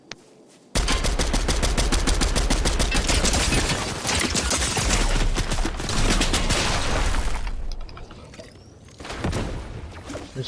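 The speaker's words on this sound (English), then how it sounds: "I'm getting shot at." Dense, sustained automatic gunfire rattles through a battle royale video game firefight, loud and continuous rapid bursts with near shots, easing briefly before another volley near the end.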